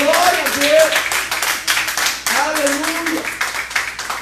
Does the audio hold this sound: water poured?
no